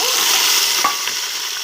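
Tomatoes and chillies frying in a pan with onions for a crab fry, giving a steady broad sizzle with a brief scrape of stirring partway through, close and fairly loud with no talk.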